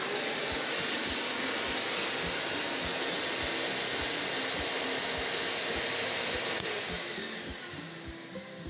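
A vacuum cleaner plugged into a household wall socket runs steadily at close range, a loud, continuous broadband roar with a faint regular pulsing, easing slightly near the end; no one speaks.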